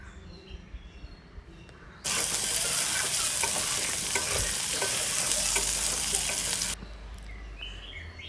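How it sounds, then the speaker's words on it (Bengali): Flat beans, potato and drumstick frying in oil with turmeric, a loud bright sizzle that bursts in suddenly and holds steady for about four and a half seconds before cutting off, leaving quiet room tone and a faint bird call. "ওগুলোকে একটু হালকা ভেজে নেব, হালকা একটু হলুদ দিয়ে ভেজে নেব"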